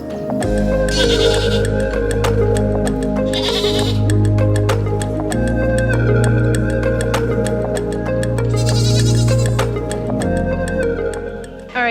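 Goats on a cacao farm bleating loudly and close by, several long wavering calls that overlap and follow one another with no talking.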